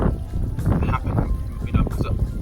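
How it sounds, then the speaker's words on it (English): Wind blows outdoors, a steady low rumble of gusts buffeting the microphone throughout, with voices talking underneath. "It's a bit windy."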